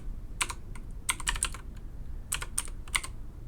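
Typing a command on a computer keyboard in DOS to start Microsoft Word, heard as close, crisp keystrokes in several short, quick bursts with brief pauses between them.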